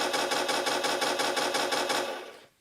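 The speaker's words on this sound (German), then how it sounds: "Normales Maschinengewehr." An HG P408 sound module plays a standard machine gun effect, a rapid, evenly spaced burst of about a dozen sharp rattling shots that stops abruptly near the end, leaving a brief fading tail.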